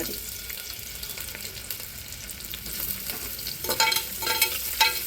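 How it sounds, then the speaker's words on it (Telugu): Vegetables lightly frying in a pan for pulao, continuous crackling sizzle that grows busier with stirring scrapes toward the end, near and fairly loud, no talk. "ఇవి కొంచెం లైట్గా, ఎక్కువ ఏం వేగాల్సిన పర్లేదు"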